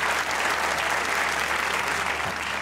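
A talk-show studio audience applauds in a short, dense burst of clapping at steady, fairly loud level.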